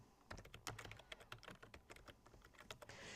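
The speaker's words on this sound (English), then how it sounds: "by typing in a name and a description" Rapid keystrokes clatter on a computer keyboard, an uneven stream of soft clicks close to the microphone.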